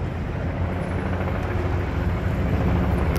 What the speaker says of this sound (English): Choppers come.